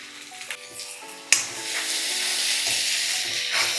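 Chopped tomatoes drop into hot oil with ginger garlic paste and curry leaves for an Indian egg curry, giving a sudden loud sizzle that settles into a steady frying crackle, with no talking.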